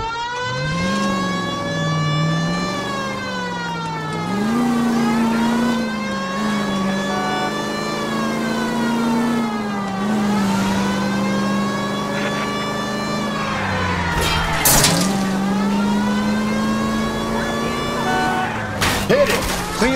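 Car engine in the video game L.A. Noire revving and accelerating through repeated gear shifts, a loud close drone rising in pitch, dropping and climbing again, with a siren wailing alongside and brief voices over it.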